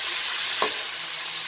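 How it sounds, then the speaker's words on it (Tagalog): Pork steak fries in a pan with a steady, loud, dense sizzle throughout, broken only by one brief clink near the middle. "Prito lang natin ng half cook."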